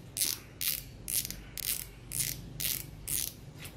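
A Japanese-made fishing reel's crank handle is turned in steady strokes, each rotation giving a bright, close ratchet clicking burst, about eight in quick regular succession.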